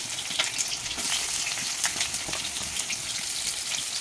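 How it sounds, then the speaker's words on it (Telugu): Onion and green chillies frying in hot oil in a kadai, a steady close sizzle with scattered crackles and a few faint stirring scrapes throughout, no voices. "ఆయిల్ ఎక్కిందండి. దీంట్లో ఆనియన్ పచ్చిమిర్చి వేసేస్తున్నాను."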